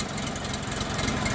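A 24-horsepower four-wheel-drive Bulat 244L mini tractor with a three-cylinder KM-385BT engine, idling close by with a steady, evenly knocking diesel chug throughout.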